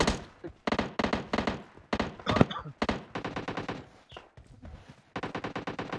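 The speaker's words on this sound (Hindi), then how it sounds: "आसे पासे गोलियां ही गोलियां।" Rapid bursts of video game gunfire, loud and repeated in quick volleys with brief gaps, and an excited voice shouting over parts of it.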